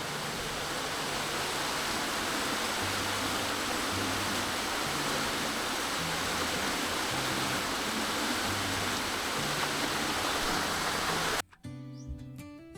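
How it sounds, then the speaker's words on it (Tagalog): Heavy rain pours steadily in a garden, a dense continuous hiss filling the scene at close range, with faint low tones underneath, then cutting off abruptly near the end. "Lakas ng ulan."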